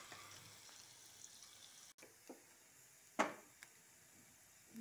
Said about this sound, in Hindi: इसमें ही हम लहसुन भी डालेंगे, इसको थोड़ा सा फ्राई होने देंगे।